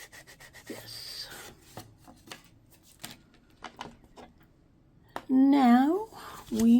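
Ink dabbed and rubbed along paper edges while crafting a junk journal belly band: a close, soft run of scratchy brushing strokes with small taps, followed by a person speaking near the end.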